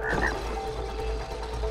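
A frog croaks twice in quick succession near the start, in the video game It Takes Two, over a continuous low game soundscape.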